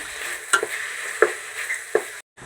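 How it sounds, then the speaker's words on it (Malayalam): A spoon stirs turmeric and garam masala through semiya biryani in a hot pan, with a steady soft sizzle and three distinct scraping strokes against the pan. "ഇതെല്ലാം നന്നായിട്ടൊന്ന് മിക്സ് ചെയ്ത് കൊടുക്കാം"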